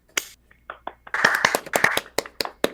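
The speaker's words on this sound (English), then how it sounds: "Pause for applause." A small live-read audience claps, starting with a few scattered sharp claps and building into a brief burst of individual hand claps, close and distinct rather than a dense roar.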